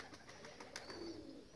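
Pigeons cooing near a dovecote, among them a black pigeon, give soft, low repeated coos that stay fairly faint and steady, with light chirpy bird calls and no talking.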